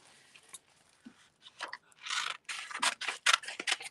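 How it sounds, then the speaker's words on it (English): Scissors snip through a small piece of art material in a quiet room, a run of short crisp cuts that grow louder and quicker toward the end, with no talk. "I'm just gonna cut off a little piece. Maybe if I can get to my scissors."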